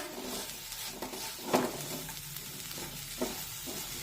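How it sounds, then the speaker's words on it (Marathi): Grated jaggery stirred into a cooking coconut filling for sweet polya, with a low sizzle under a few distinct scraping strokes of a spoon against the pan, close and fairly quiet. "बारीक करून घेतलेला पाऊन वाटी गूळ मिक्स करून घेऊया"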